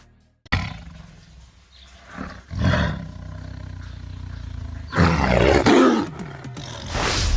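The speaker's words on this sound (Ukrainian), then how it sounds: "Третє місце займає тигр." A tiger roars repeatedly at close range: loud, rough bursts, with a long sustained roar near the end and a rising one trailing off as the clip closes.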